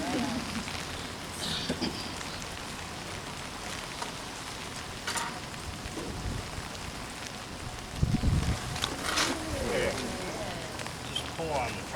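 Light rain patters steadily outdoors at a small-town summer festival and mural unveiling, a soft continuous hiss with occasional wind buffeting the microphone and voices talking in the background.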